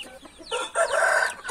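Backyard-raised hens cluck and squawk close by in quick, excited bursts, loud and alone with no talk over them.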